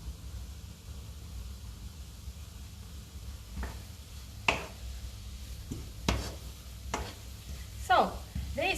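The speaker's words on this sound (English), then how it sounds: "So they start to fry." Leeks fry in a pan for a pasta with pecorino cream, giving a quiet, steady sizzle broken by several sharp clinks and scrapes from utensils near the end.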